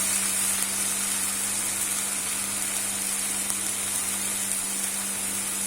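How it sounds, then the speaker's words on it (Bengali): Spice paste for a chicken kasha curry frying in a pan, a steady soft hiss and sizzle that holds evenly throughout, no talk. "মশলাটাকে কিছুক্ষণ ভেজে"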